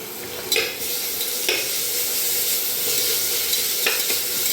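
A spoonful of ginger, garlic and coriander paste fries with onions in a hot pan for veg pulao, making a loud, continuous hiss punctuated by a few brief stirring scrapes.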